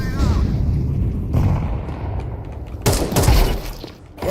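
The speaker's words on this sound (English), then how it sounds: "I throw the flashbang." In the video game Counter-Strike 2, a thrown flashbang grenade goes off with a loud, sharp burst amid dense gunfire and game noise, while players talk over it.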